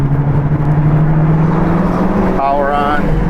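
A 2022 Hyundai Elantra N on a race track, its engine droning steadily, then dropping and rising in pitch through a gear shift, loud and close, from inside the car.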